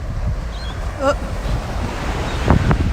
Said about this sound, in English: the wind's picking up a little bit again